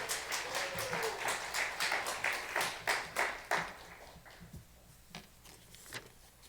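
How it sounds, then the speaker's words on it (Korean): A church chapel audience at a Korean university worship service claps loudly to welcome the university president, dense applause swelling for about three seconds before thinning into scattered, fading claps. "총장님 나오실 때 큰 소리로 박수하며 환영하겠습니다."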